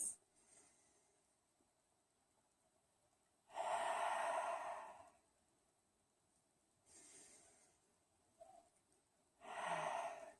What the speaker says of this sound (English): 2 more deep breaths